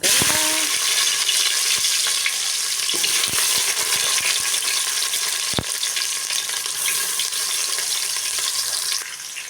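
Steady, close sizzling of cumin seeds in hot oil for a tempering before cauliflower and peas, a bright crackling hiss with scattered sharp pops and the occasional clink of a utensil.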